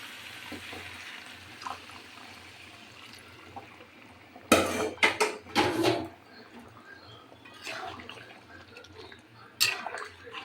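Hot water is poured into cooked-down masala in a pan for paneer butter masala. It gives a few splashing, sizzling bursts in the middle and a short one near the end, over a low kitchen hum.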